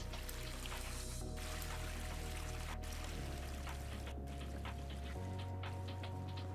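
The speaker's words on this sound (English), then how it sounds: "you get that weird just like lingering water sound without seeing anything happening" Lingering liquid trickle and pouring sound from a water simulation in a C++ game engine, steady and continuous throughout with layered low tonal hum, no talk.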